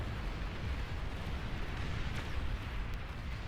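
An in-game explosion in the strategy game Beyond All Reason, a broad rumbling roar that stays dense and steady throughout with no clear single blast, filling the clip under battle noise.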